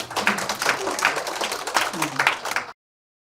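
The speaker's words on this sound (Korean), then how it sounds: "박수 쳐주시죠." An audience at a poetry recital contest applauds steadily, the clapping close and lively for a few seconds before it cuts off abruptly, with brief voices mixed in.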